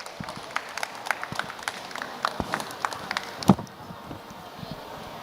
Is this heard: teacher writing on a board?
no